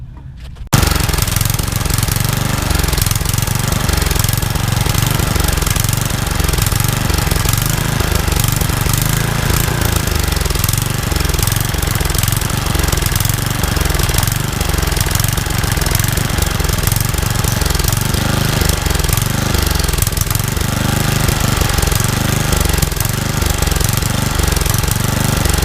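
Tecumseh 10hp HM100 small single-cylinder engine, fitted with a replacement carburetor, starts after a brief quiet moment and runs steadily, loud and near, with a rapid chugging knock that holds throughout.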